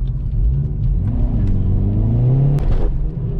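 A 2019 Hyundai Veloster N, a front-wheel-drive car, accelerates hard with a loud, close engine drone rising steadily in pitch, heard from inside the cabin without talk.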